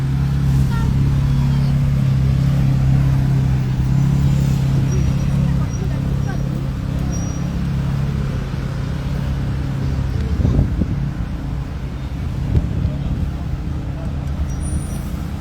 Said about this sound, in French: Voilà, les premières Alpines arrivent.